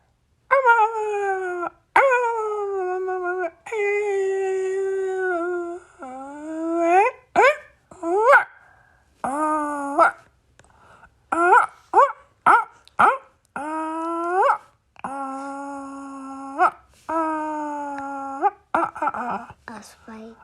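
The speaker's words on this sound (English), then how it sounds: "What happened to the dog?" A dog howls and whimpers up close in a long run of drawn-out, wavering cries, each rising or sliding in pitch, broken by short pauses and quicker yelps toward the end.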